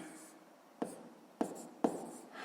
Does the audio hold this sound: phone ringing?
no